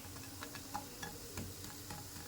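Taro fritters fry in hot oil with a soft, steady sizzle and scattered small crackles and pops, heard faintly and up close with no voices.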